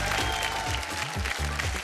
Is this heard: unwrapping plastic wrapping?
no